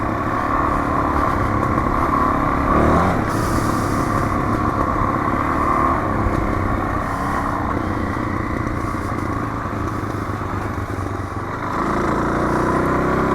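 An off-road motorcycle on an OHV truck trail, its engine droning loudly and continuously close by, with slight shifts in pitch as it rides on.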